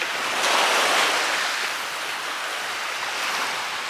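Ocean waves wash onto the shore at high tide, a steady close-up hiss of surf that swells briefly and stays broad and continuous, with wind buffeting the microphone and no talking.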